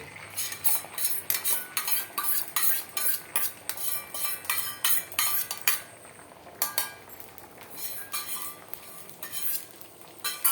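Beaten egg with spices and salt cooks in a wok for a morning omelette, with rapid metallic clinks and scrapes of a utensil against the pan over a soft background sizzle, fairly close and busy throughout.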